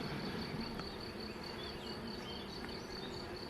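A steady, dense hum of honeybees working over a brood frame in an apiary, continuous and close, with individual bees buzzing past and no talking.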